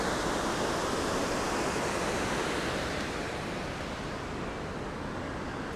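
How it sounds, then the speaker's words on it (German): Fast-flowing water of the Ruhr river at Kettwig rushes in a dense, continuous roar, loud and close, with no voices over it. "Auch eine ziemlich hohe Fließgeschwindigkeit, dass da ein Wasser runterkommt."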